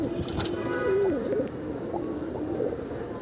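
Pigeons at a loft coo softly, with a short warbling call standing out over faint background bird sounds and ambient hiss.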